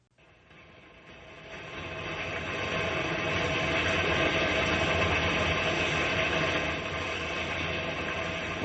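Old railway engine rolling along the tracks in a rainstorm, a continuous rattling, clattering rumble that builds up from quiet and then holds steady.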